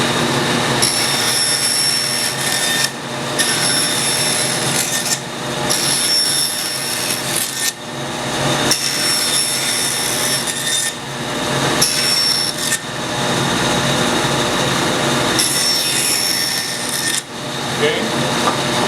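Band saw cutting relief cuts into a wooden blank, with a steady loud motor whine and repeated surges of blade biting through wood, several cuts in a row with brief pauses between them, close and dominant.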